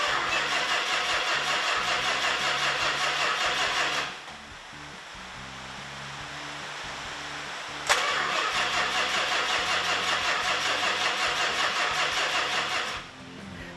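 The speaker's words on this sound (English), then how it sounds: "Now we're going to fire the big girl up" A Chrysler Imperial LeBaron engine grinds on its starter in a long, steady, pulsing crank, pauses, cranks again after a sharp click, and then the starter cuts out. The sound is loud and close throughout.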